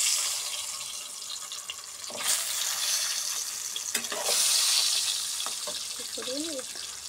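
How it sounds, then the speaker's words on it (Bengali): Eggs fry in oil with turmeric and Kashmiri chilli powder for an egg curry. A close, bright sizzle grows louder after a couple of seconds, broken by a few light clinks and stirring sounds. "দিয়ে ডিমগুলোকে আমরা ভেজে নেব।"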